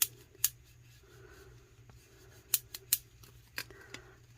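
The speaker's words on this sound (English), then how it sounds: "If you can hear that snapping, that's a bubble underneath." An air bubble trapped under a vinyl decal on a spray-painted tumbler snaps and crackles as it is worked out, several faint sharp clicks over a quiet rubbing background.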